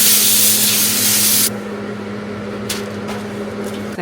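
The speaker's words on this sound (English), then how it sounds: "Gonna spray some oil spray on the tray." Oil spray hisses from a can onto a baking tray in a home kitchen, one steady spray lasting about a second and a half, close and loud, followed by quiet room tone with a few soft clicks.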